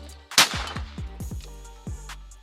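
A Mossberg sub-gauge shotgun fires one sharp, loud close-range shot, followed by a string of quick decaying echoes and low rumbles rolling off the surroundings.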